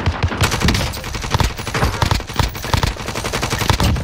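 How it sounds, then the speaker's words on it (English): Rapid automatic gunfire in Call of Duty Warzone on Rebirth Island, with a QBZ and KSP loadout: dense, loud bursts of shots rattling almost continuously, layered with fainter distant fire. "Oh, I just got shot in my back."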